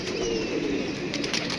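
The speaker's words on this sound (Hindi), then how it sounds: "और हमारे यहाँ ये जो कबूतर है ना बेचारा," Pigeon cooing near a female in a rural Pakistani or Indian setting, heard as a soft continuous low murmur with faint wing flutters, close and steady, without talk.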